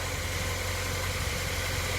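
A warmed-up Honda Civic Si idles at a steady, even hum with a low rumbling pulse, close and constant with no voices over it.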